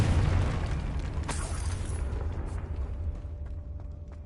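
A Confringo fire-blast spell explodes in Hogwarts Legacy with a deep booming burst that fades over a few seconds, loud at first and then settling into a low rumble with faint debris ticks.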